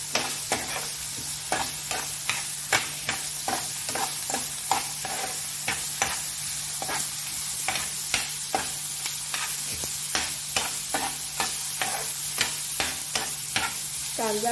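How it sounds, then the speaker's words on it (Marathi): Onion and tomato sautéing in oil, a constant close sizzle with a brisk, regular rhythm of spoon scrapes and taps against the pan throughout, and nobody speaking. "चांगलं कांदा आणि टोमॅटो छानसं परतून घ्यायचे तेलामध्ये मऊ"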